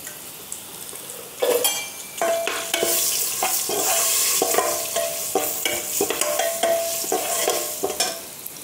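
A masala of coriander, turmeric and red chili powder sizzles in a pan for aloo dum pulao. There is a continuous frying hiss, and a spoon scrapes and clinks against the pan as it stirs.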